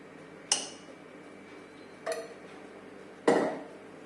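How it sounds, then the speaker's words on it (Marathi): A spoon strikes a metal kadhai three separate times, each a sharp clink followed by a brief ring, close to the microphone against an otherwise quiet background. "मी तेल टाकते कढईमध्ये एक चमचा"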